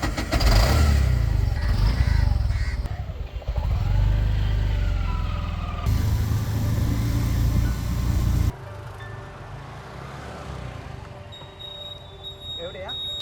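An auto rickshaw engine in Thiruvananthapuram runs loudly and steadily, with revving and a shift in tone partway through, heard close up with talking over it.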